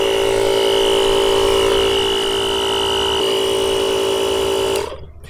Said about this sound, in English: Now it is worth noting that it doesn't stop the compressor, it just stops inflating past that pressure